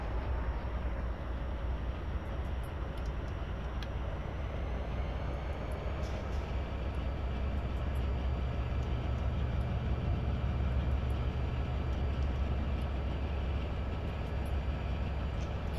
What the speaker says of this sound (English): I will apply a little more brakes via the reverser.